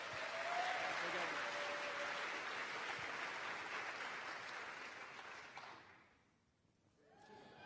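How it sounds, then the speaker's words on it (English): An audience applauding speaker Katherine Hansen at an Ignite show, with steady, dense clapping for about six seconds before fading out, followed by a brief pause and a faint return of sound. "Round of applause for Katherine, please."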